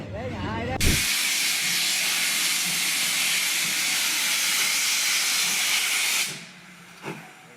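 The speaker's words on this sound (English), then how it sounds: "This is what happens when a steam loco dumps pressure at speed." A steam locomotive at speed dumps pressure, letting out a loud, continuous roaring hiss of venting steam that lasts several seconds and then cuts off, with train noise before and after.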